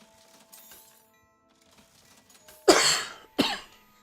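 Two sharp, loud coughs in close succession follow a few seconds of faint background sound, with no talking.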